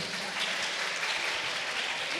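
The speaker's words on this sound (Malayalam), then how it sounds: "ഒരു നല്ല കൈയടി കൊടുത്തേ നമ്മുടെ കൊച്ചിന്" An audience on a children's talent show applauds a young child, a brief, even wash of many hands clapping at moderate distance with no one talking over it.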